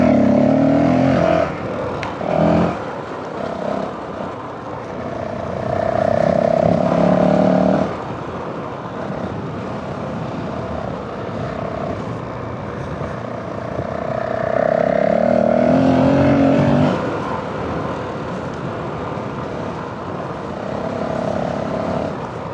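A Honda CRF450L motorcycle ridden along simple country lanes, its engine rising and falling loudly through repeated revving surges and gear changes, close and continuous with wind rush, with no talking.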